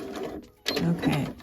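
A sewing machine backstitches a seam on fall joggers, making a quick mechanical whirr that pauses briefly and then resumes in a short, rapid run close by.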